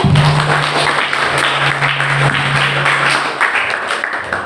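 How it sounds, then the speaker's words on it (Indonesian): An audience at a national seminar on Nahdliyin and national brotherhood gives a short burst of applause, a dense clatter of hands that is loud and close. A steady low hum runs beneath, and the clapping thins out near the end. "tepuk tangan dulu"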